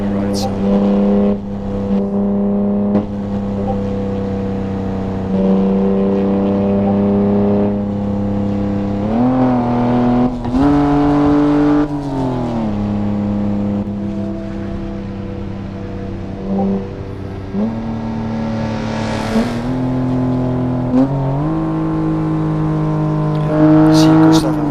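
Manual BMW F80 M3 driving in Assetto Corsa on a Japan cruise, its engine holding a steady droning tone that rises and falls with revs and gear changes throughout, with a person talking over it.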